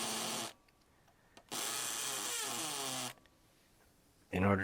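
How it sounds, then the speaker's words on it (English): Power drill running in hammer drill mode on a small metal workpiece for a Dinky 440 Studebaker Tanker model, a hollow ground out while shaping a mushroom form; two loud sustained bursts with a pause between and a third starting at the end, close by. "I put the power drill in hammer drill mode"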